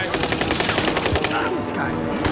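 Close automatic gunfire in Call of Duty Warzone: a fast run of loud shots crackles for about a second and a half, then eases into scattered game noise.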